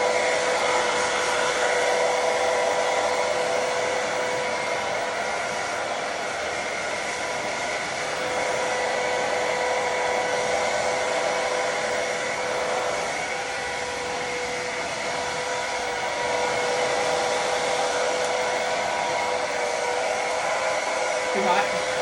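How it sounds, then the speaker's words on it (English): A hair dryer runs continuously up close while blow-drying the front of a hair system, a steady loud whooshing whine with slight swells as it moves, no talking over it. "I like to blow dry his front a little bit to get it a little bit more wispy looking"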